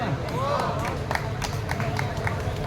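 An audience at a song performance for teachers claps along in a steady rhythm, a group of hands striking together repeatedly, a little distant, under a talking voice and crowd murmur.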